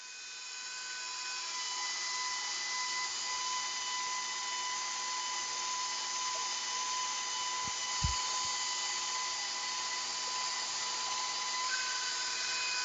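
A steady motorized hum runs for a long stretch as a pasta machine rolls and thins homemade dough for spaghetti. The whir stays constant and moderately loud, with one soft thump near the middle.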